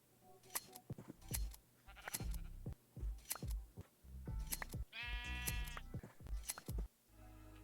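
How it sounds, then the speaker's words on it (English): Sheep in a video game bleating repeatedly, a series of short nasal calls at irregular intervals, fairly faint, with one longer tonal bleat in the middle. "Got a bunch of naked sheep."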